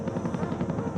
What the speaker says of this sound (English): Immediately was the thump, thump, thump of the big, heavy chopper